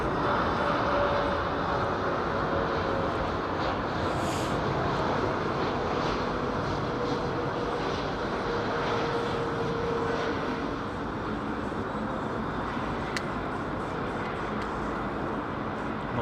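Airbus A350 jet engines at London Heathrow, a faint, distant, steady roar with a slowly shifting whine across the whole stretch.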